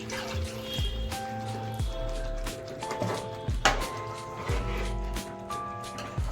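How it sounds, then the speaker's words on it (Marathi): Water poured from a mixer jar into ground green masala paste for a drumstick curry, a soft close trickle and drip running under steady background music, with no speech. "ज्या मिक्सरमध्ये वाटण आपण बनवलं त्यातच पाणी ॲड करून ते आपण वाटणामध्ये टाकून घेतोय"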